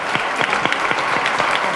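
An audience claps for a music group at a book presentation, a dense, steady burst of many hands clapping at close range, loud and uninterrupted for under two seconds.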